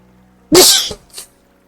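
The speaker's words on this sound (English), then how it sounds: "I'm gonna sneeze." One loud, close sneeze bursts out sharply, then a short breathy tail and a softer sniff follow.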